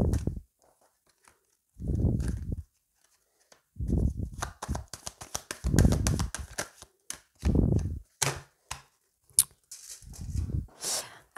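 Tarot cards being shuffled and laid out by hand, a series of soft papery riffles and slaps that come in irregular bursts with short pauses between them.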